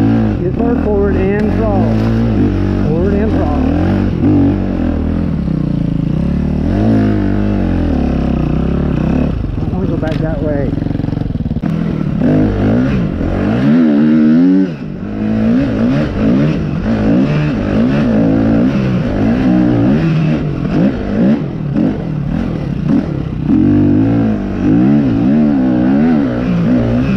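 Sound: vehicle engine revving under throttle

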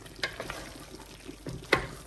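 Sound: mutton biryani masala cooking in a pan

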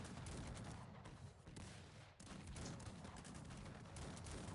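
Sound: gunfire in the video game Cossacks 3

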